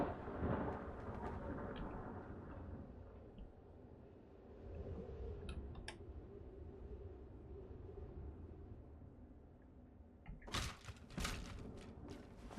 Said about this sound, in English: You see, it could just be permanently raining around here.